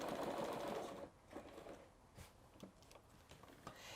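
A sewing machine stitches a quilt, switching between zigzag and straight stitches. A loud mechanical whir runs for about a second and then drops to quieter intermittent ticks and short bursts of stitching.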